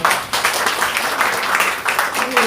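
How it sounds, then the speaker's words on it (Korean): Crowd applause at a campaign visit to Wolbae Market in Daegu, dense clapping from many hands with a few voices mixed in, moderately loud and fairly steady throughout. "박수 부탁드리겠습니다"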